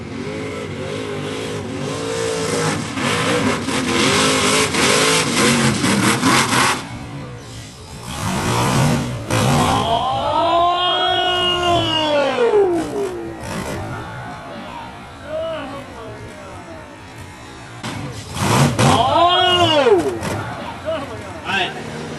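A stock Toyota race truck driven by Sean Gould at Bithlo track roars through acceleration and passes, its engine rising and falling in loud sweeps while an announcer talks over much of it.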